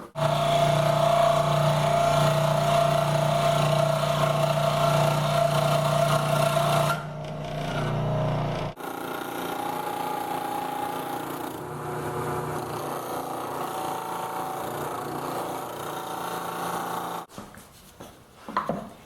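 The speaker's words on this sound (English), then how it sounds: "cutting this slab to the outline with my jigsaw and disc sander" A jigsaw and a disc sander cut and shape a slab to a marked outline. A steady, loud buzzing drone runs for about seven seconds, then after a short break a rougher grinding rasp follows, ending in brief bursts.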